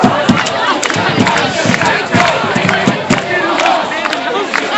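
A large crowd of protesters shouts and yells together, a loud, dense and continuous roar of many voices close by with scattered louder cries.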